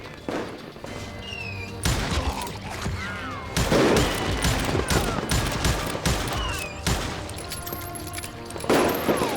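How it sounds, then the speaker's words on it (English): Rapid gunfire from the Western shooter Call of Juarez Gunslinger: bursts of shots, booming impacts and ricochets overlap with game music, loud and dense throughout with no speech. "Watch where you're shooting!"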